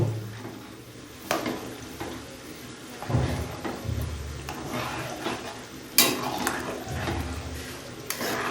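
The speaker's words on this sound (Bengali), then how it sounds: "এবার আমি একটা হাতার সাহায্যে কচুগুলোকে ভালো করে মিশিয়ে নিচ্ছি" Gati kochu (taro) stirred in water with a ladle in a pot: repeated dull knocks and scrapes of the ladle against the metal, with swishing water between strokes, close and moderately loud.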